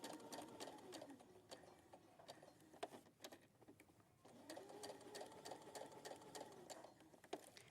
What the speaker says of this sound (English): sew the 1/4 inch seam